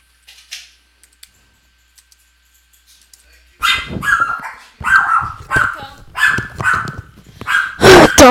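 Dogs in the Minecraft video game bark in a quick run of repeated yips after a quiet opening, loud and close, bursts coming in steady succession.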